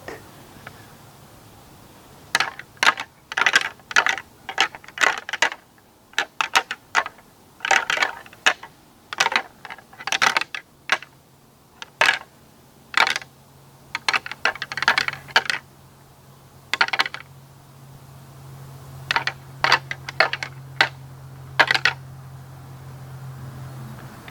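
Light antler rattling to attract bucks, heard as bursts of sharp, clicking clacks separated by short pauses, alone against a quiet outdoor background.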